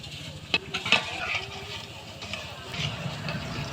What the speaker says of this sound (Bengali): একটা কড়াইতে তেল গরম অল্প করে পিঠেগুলো তেলের ভিতরে দিয়ে দিব দিয়ে ভালোভাবে নেড়ে চেড়ে পিঠাগুলো ভেজে নেব